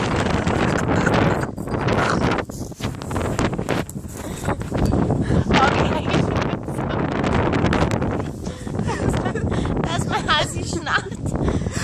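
Strong outdoor wind buffets the microphone continuously, a loud roaring rumble with gusty swells, while people talk over it.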